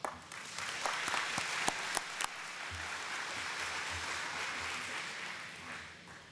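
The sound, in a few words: applause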